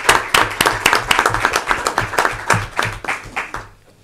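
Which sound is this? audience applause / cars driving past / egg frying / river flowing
audience applause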